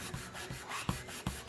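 Hand sanding of painted wood, four quick rasping strokes in an uneven rhythm, close and fairly quiet, with no talking.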